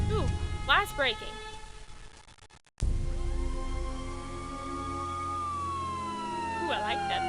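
In the video game Nancy Drew: Stay Tuned for Danger, after a voice speaks over some noise, a wailing siren rises and holds a long steady tone, with speech returning near the end.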